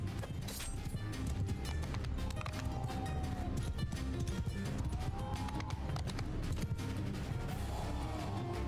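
Rapid hoofbeats of a galloping horse rumble within a dense wash of battle noise, clashing and shouts, constant and loud throughout, in Mount and Blade II: Bannerlord.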